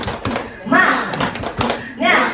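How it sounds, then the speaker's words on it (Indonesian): A group at an elementary school community-service event in Bengkulu performs a rhythmic spirit clap, with short bursts of claps mixed with loud chanted voices across a couple of seconds. "Tepuk semangat dulu. Tepuk semangat."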